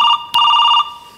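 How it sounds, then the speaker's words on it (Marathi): A telephone rings loudly nearby with a bright electronic trilling tone, one short burst followed by a longer warbling ring before it cuts off. "तुमचा फोन वाजतोय."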